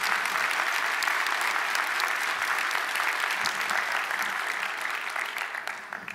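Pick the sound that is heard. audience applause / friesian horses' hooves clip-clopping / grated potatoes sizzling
audience applause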